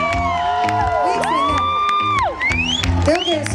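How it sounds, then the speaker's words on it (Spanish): At a concert, the audience cheers and applauds for the crew. Whoops and shouts rise over continuous crowd clapping, with music tones sliding through the mix. "Un aplauso para todo el crew."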